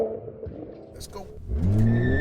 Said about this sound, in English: Oh, a terrible burnout.